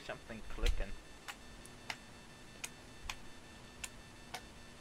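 A slime in a video game making sharp, evenly spaced clicks roughly every second, faint and close, following a brief stretch of soft talk at the start.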